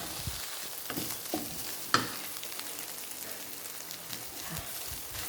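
Pickled bamboo shoots and egg stir-frying in a pan, a steady close sizzle with occasional scrapes and clacks of a spatula against the pan.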